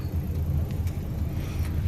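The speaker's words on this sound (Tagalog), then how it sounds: "So, ito pala ay sasakyan ng amo ko." Inside a moving car with its air conditioning broken, a steady low road and engine rumble fills the cabin, close and even, with no talking.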